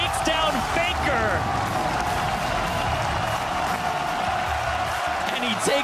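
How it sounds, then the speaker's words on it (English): A Spanish crowd at the League of Legends All Stars 2016 1v1 tournament cheers and applauds in a loud, sustained roar, with voices talking over it. "The crowd is in love with this."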